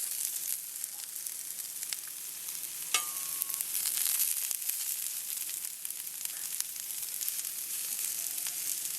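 Colored bell peppers fry in oil in a pan over medium heat, giving a steady, even sizzle with a faint crackle that holds at a constant level throughout, close up and alone with no talk.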